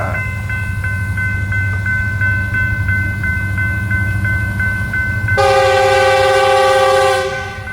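A FEC freight train passes close by with a heavy low rumble, sounding a steady multi-tone horn that swells into a louder, brighter chord near the end before cutting off.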